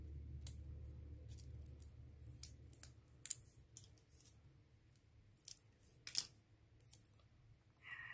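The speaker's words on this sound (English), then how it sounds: "And I'm just going to roll that tape again." Sticky tape being handled for a bottle cap bug craft, with sharp crackling peels and clicks scattered unevenly across a quiet room.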